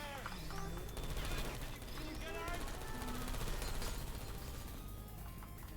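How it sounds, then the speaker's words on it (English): Rapid bursts of Portal 2 gunfire crackle almost continuously, with sharp chirps and electronic tones layered over a dense, noisy background. "I heard gunfire."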